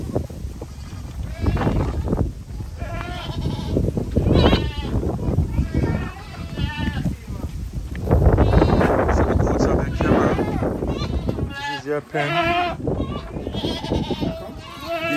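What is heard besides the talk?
goats bleating in a pen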